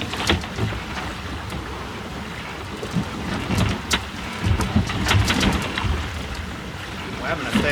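Small trailer sailboat under way in a fair wind: steady broadband rush of wind and water against the hull, with irregular splashes and knocks, continuous and fairly loud throughout.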